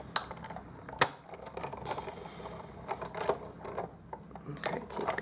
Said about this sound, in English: now I'll just crank that through the Big Shot